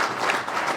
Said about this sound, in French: on peut applaudir toute l'équipe municipale d'Autrive